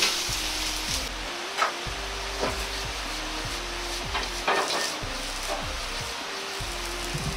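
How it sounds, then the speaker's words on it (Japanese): Lettuce is stir-fried into ground meat fried rice in a hot pan, a steady loud sizzle with rhythmic scraping and tossing strokes of the spatula repeating every second or so. "最後にレタスなど軽く合わせれば OK です"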